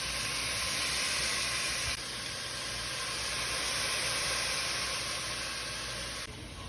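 Carrots, onions and celery steam in olive oil in a pan, making a steady, even hiss that stays constant throughout with no talking.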